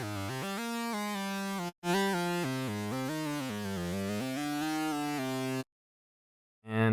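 A single-note synth lead plays a stepping melody line, bright and buzzy, one note at a time, then cuts to silence before a brief return.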